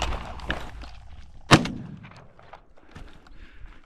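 A single shotgun shot cracks out during a partridge hunt, one sharp loud blast with a brief echoing tail, amid faint outdoor rustling and footsteps.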